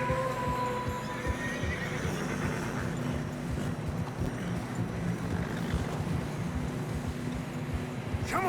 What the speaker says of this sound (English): Horses are getting tired.